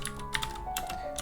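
A short run of quick, close keystrokes on a computer keyboard enters a Linux install command, with soft clicking taps and no speech.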